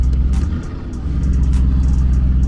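A Lamborghini Urus in Corsa mode gives a deep, loud engine rumble close by, holding steady with a slight dip and swell over a couple of seconds.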